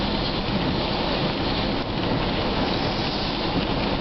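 Heavy rain roars in a dense, unbroken downpour close by, with no talking.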